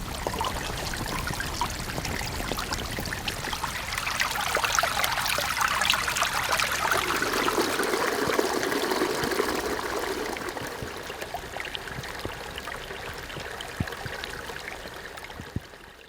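Rainwater runs through a small dug ditch on an abandoned farm in France, a steady close trickle and stream that swells midway and then settles back to an even flow, with no voices.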